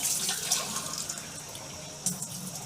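Two glasses of water run steadily into a pot of finely chopped bharangi greens, a soft continuous splashing hiss with a brief louder splash near the end; no voices.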